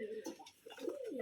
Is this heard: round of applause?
no